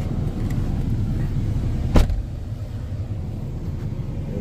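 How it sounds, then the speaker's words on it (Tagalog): A warmed-up car engine idles in a steady low rumble for several seconds, with one brief sharp click or thump partway through. "Kanina ko pa inante, mga siguro mga 10 minutes na rin na pinapainit ko itong sasakyan"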